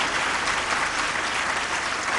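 A dense crowd of listeners claps together at a Jain spiritual discourse, steady broadband applause filling the room without a break, loud and close with no voices rising above it.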